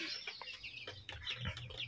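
Native chickens cluck in short, busy calls close by, several birds overlapping in quick bursts against a quiet background, with no talking.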